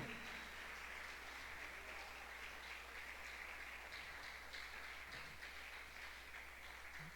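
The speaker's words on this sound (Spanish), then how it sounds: "Vamos a darle un aplauso al Señor porque Él es bueno." A church congregation applauds steadily throughout, a dense, sustained wash of many hands clapping at moderate, fairly distant level with no break.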